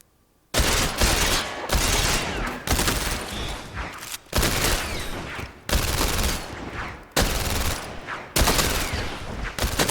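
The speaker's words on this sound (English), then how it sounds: "So I use a machine gun on this one, which makes my life a little bit easier." Machine gun fire in the PlayStation VR game London Heist, loud sustained bursts of rapid shots in about seven long volleys separated by short pauses.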